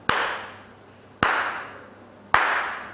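Three sharp hand claps spaced about a second apart, each ringing briefly before the next, keeping the slow rhythm of a Hawrami song; close and clear with no voices.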